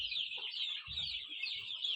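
Brahma chickens on a small farm give soft, low clucks close by over a constant high chirping of chicks.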